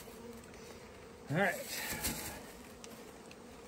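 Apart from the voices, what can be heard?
honeybees buzzing from a package during hive install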